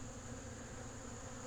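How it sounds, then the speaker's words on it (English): Bees hum faintly around beehives, a soft steady drone that holds evenly with no talking. "So I got bees landing on me that are cleaning themselves."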